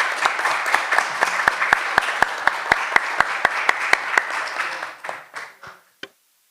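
An audience at a conference panel applauds in a quick, fairly close burst of clapping that thins out and dies away over about five seconds, ending with a last few scattered claps.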